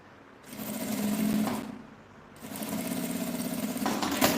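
Sewing machine stitching fabric for a small makeup bag, running in two close bursts of rapid mechanical whirring separated by a short pause.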